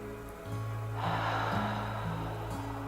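A single deep breath drawn in during a beginner meditation session, a close, soft inhale under gentle background music that fills most of the moment.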